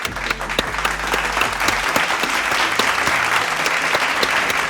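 A steady round of applause from an audience, dense continuous clapping that fills the space at an even level for several seconds with no talk over it.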